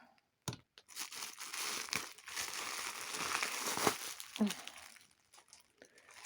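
Quiet, close crinkling and rustling of a small plastic gift bag comes in short bursts and soft crackles.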